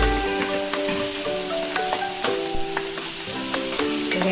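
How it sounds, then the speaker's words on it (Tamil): Garlic cloves frying in hot oil for a ground prawn head curry, a steady close sizzle with occasional stirring clicks and scrapes throughout, no talking. "ஒரு 8 பல் பூண்டு போட்டு அதுவும் கொஞ்சம் ரொம்ப கோல்டன் கலர்லாம் ஆக வேண்டாம்."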